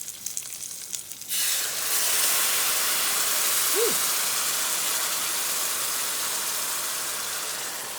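A hot pan of chicken tamale filling hisses and sizzles with steam, a loud broad wash that starts abruptly and holds steady before easing slightly, with no talking.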